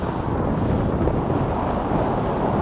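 Loud, steady wind buffeting the microphone while riding a bicycle through the desert, a dense continuous roar with no talking.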